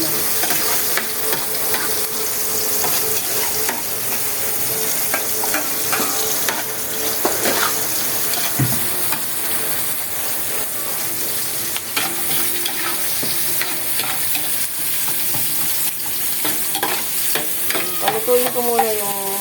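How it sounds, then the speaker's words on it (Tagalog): Onion, garlic and ginger sauté in a pan while a home cook prepares ginataang manok, giving a continuous close frying sizzle with scattered spatula scrapes and clinks throughout, without talking. "Palutuin ko muna yung sibuyas, bawang at saka luya."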